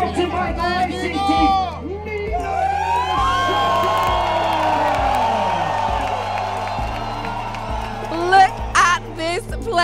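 Loud crowd at a mountain bike World Cup race in Petropolis, Brazil, cheering, whooping and chattering continuously, with someone speaking near over the din and a rhythmic thumping beat beneath.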